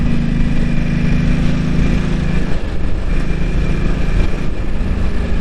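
Ducati motorcycle engine running steadily on light throttle while riding in Japan, a continuous loud drone with a brief dip midway and no change in pace.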